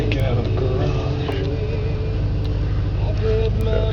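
Chevrolet engine idling fast on a cold morning after leaving the garage, a steady low rumble close by that holds even throughout.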